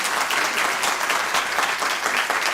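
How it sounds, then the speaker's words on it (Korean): An audience applauds city council members at a Gimpo city education policy forum, a dense, lively burst of many people clapping that fills the hall with steady energy. "제가 개인적으로 박수 한번 쳐드리고 싶어요"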